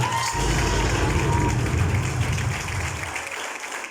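Applause and cheering at a wedding ceremony before a registrar, a dense roar of clapping and crowd noise that fades out toward the end.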